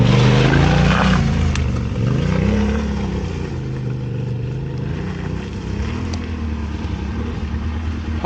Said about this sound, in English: put the bike in 3rd gear and just use all the revs.